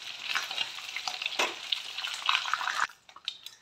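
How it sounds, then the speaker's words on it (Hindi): Chicken pieces frying in oil in a kadai for dhaba-style kadai chicken, with a dense, steady crackling sizzle and stirring clatter that drops off sharply near the end, leaving softer scattered pops. "फ्राई हो चला है चिकन।"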